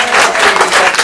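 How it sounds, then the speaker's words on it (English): Sustained round of applause from a seminar audience for guest speaker Chad Bender, dense steady clapping filling a room, loud and continuous throughout. "A little round of applause for Chad Bender."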